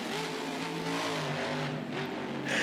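A monster truck engine in BeamNG video game racing revs hard and steadily as the truck launches off a jump, a loud continuous roar with shifting pitch, no talk.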